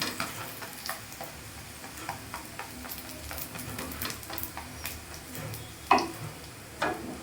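Carrot holige cooks in ghee on a pan with a soft, constant sizzle and scattered light ticks and scrapes, and a couple of louder clacks near the end, heard up close with no speech.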